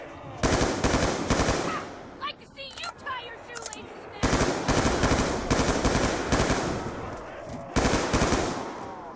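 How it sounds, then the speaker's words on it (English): M16 rifle fire at zombies in Call of Duty Buried, rapid bursts of gunshots in repeated volleys with short pauses between, loud and close, with game effects mixed in. "the M16 is a monster with headshots, so you just keep shooting them in the head and building up points"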